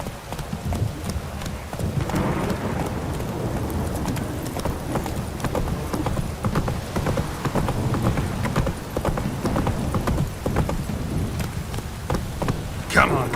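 Hooves of the horse Roach in The Witcher 3 clip-clop steadily through a full stretch of galloping, close and loud, mixed with game ambience and faint rain, with voices occasionally speaking over the rhythm.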